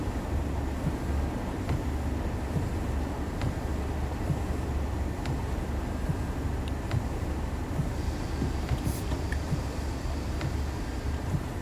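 A Class 37 diesel locomotive rolls along at low speed in a train simulator game on the Southeastern High Speed line. It gives a steady, even rumble with faint periodic clicks of the track, continuous and without talk.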